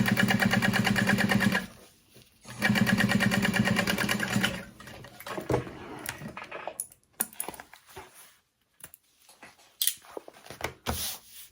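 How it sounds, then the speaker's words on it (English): A sewing machine topstitches through thick bag layers in two loud, fast, even mechanical bursts, followed by quieter clicks and handling noises as the fabric is adjusted. "So we're gonna top stitch under and through all those layers."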